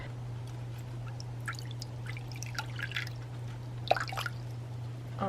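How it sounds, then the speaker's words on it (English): Water is poured into the water dish of a tarantula enclosure for a Brazilian black tarantula, giving faint, scattered trickles and drips over a steady low hum. "Now I'm going to add some water to the water dish"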